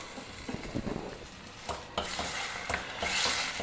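Chopped tomatoes hit hot oil in a pan, bursting into sizzling hiss that swells and builds, with scraping stirs and soft knocks of a utensil against the pan, close and fairly loud, without speech.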